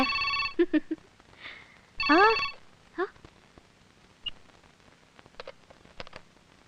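A melodic phone ringtone chimes in short bursts of rising notes, with soft voices and small noises in between.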